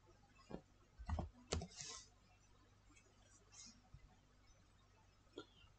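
Sparse, faint clicks and taps of a computer keyboard being typed on, a few keystrokes in a short cluster followed by scattered single presses in a quiet room.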